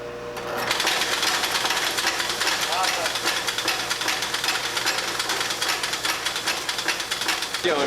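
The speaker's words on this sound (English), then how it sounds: "Put it on the shaker." A coal sample shaker machine runs loud and steady with a dense, rapid mechanical rattle and hum, starting up within the first second and continuing without a break.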